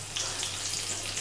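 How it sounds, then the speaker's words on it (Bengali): Crushed whole garam masala tempering fries in hot oil for a winter bhetki fish dish, giving a steady, close, dense sizzle that holds evenly throughout with no voices. "গোটা গরম মশলা থেতো করে নিয়েছিলাম, তো সেটা আমি এখানে দিয়ে এই ফোড়নটাকে একটু ভাজা ভাজা করে নেব"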